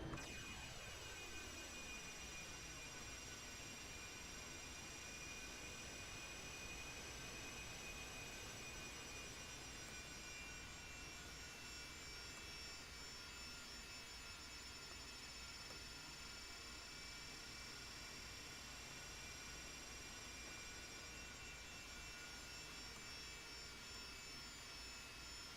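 Simulated LearJet jet engines in the Aerofly FS 4 flight game spooling up for taxi, a loud steady whine with high tonal hum and a rising sweep at the start, continuous throughout.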